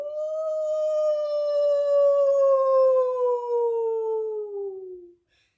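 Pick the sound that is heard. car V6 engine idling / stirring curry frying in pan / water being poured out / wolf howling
wolf howling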